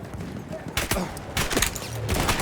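Sharp gunshots from an Obrez pistol in Battlefield 1 punch through in short bursts, loud and close, alongside someone talking over the action.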